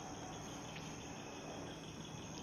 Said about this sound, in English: That's a frog. That's totally a frog.